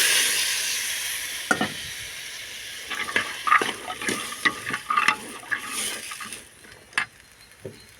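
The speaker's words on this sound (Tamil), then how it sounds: "இதான் சுண்டல் போடுறேன்." Chickpeas go into a pan of frying masala and are stirred, giving a close, continuous sizzle broken by repeated scrapes and clacks of the spoon against the pan, with no talk.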